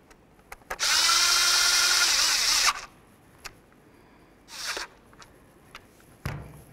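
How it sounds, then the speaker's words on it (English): A power tool drives screws into a Dodge Charger steering column cover, with one loud sustained whir of about two seconds, a shorter burst later and scattered clicks and handling knocks between. "Make sure you put in your 3 screws."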